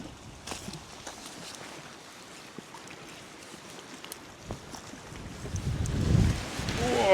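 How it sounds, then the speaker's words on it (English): Strong gale-force wind blows across a campsite on a Victorian royal estate, buffeting the microphone with a low, uneven roar that swells into a louder gust at the end. "Oh, holy moly, this wind is insane."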